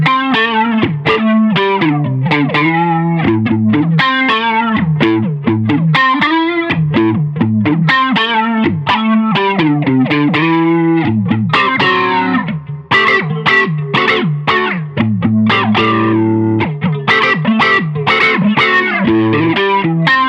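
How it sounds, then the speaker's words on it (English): An electric guitar runs through an Asheville Music Tools AFG-1 pedal with a quick-attack envelope-filter-like tone, producing a continuous quacky, wah-swept melodic line of plucked notes and short phrases, loud and upfront with no talk. "So I wanted something that sounded like an envelope filter."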